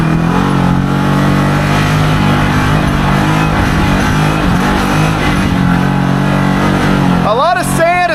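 Can-Am Maverick XMR Sport side-by-side engine droning steadily at about 5,000 RPM while cruising through sand in four-wheel drive, loud and continuous, with a person talking near the end.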